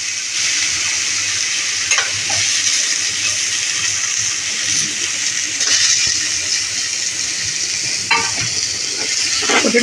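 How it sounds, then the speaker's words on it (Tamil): Tomatoes with turmeric sautéing in a hot pan of home-cooked chicken curry, a loud, continuous sizzle close up, broken by a few scrapes of stirring. "இதுக்கிட்டே இப்போ தக்காளி சேர்த்துருங்க"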